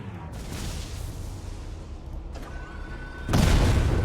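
Tank cannon fire and explosions in a Roblox World War One shooter, heavy booming blasts with a rumbling tail, the last and loudest hitting near the end.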